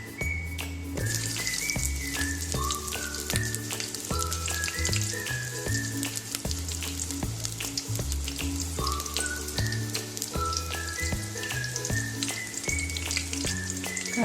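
Onion fries in oil with cumin and mustard seeds for a drumstick pappucharu, giving a steady close sizzle over continuous background music. No one speaks.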